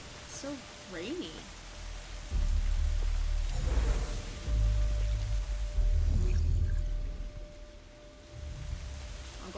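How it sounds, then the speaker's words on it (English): Rain falls steadily in the video game Kena: Bridge of Spirits, a constant hissing wash with low rumbling swells beneath it and a few brief game tones early on. "So rainy."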